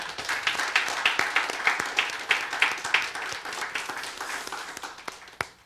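A church congregation applauds together at a New Year's Eve worship service, a dense, steady wash of many hands clapping that carries on for several seconds before tapering off, with a few sharper claps standing out near the end.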